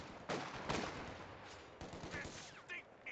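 Machine gun fire in a strategy video game match: several sharp, rattling bursts crackle out over about three seconds, loud and close, with brief gaps between volleys.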